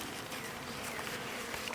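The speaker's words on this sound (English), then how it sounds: "See the bees up here already?" Honey bees buzzing around a hive feeder, a faint, continuous buzzing hum with several overlapping insects close by and no talk.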